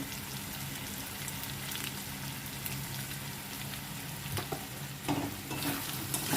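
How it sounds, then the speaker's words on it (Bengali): Ginger, garlic, chili, turmeric and salt sizzle and fry in a pan, a steady close crackle under repeated scraping stirs, with a few louder clatters near the end and no talk. "আমি এটাকে ভালো করে নেড়ে চেড়ে একটু কষে নেবো, তাহলে আদা রসুনের গন্ধটা ছাড়বে"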